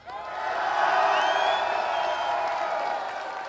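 Crowd at a League of Legends esports final cheering for team Fraternitas, a broad swelling roar of whoops and shouts that peaks early and slowly fades.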